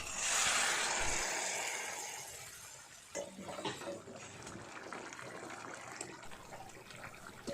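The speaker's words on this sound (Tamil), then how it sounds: "இப்போ இது நல்லா வதங்கினோடனே நம்ம புளி தண்ணியை ஊற்றி நல்லா வேக வச்சுருவோங்க" Tamarind water poured into sautéed green chillies for a pickle, a gushing splash at first that gives way to sizzling and bubbling in the pan, close and steady with no talk.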